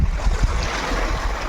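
Sea waves washing over rocks at an Andaman beach with wind buffeting, a loud, rushing wash with brief surges and no voices.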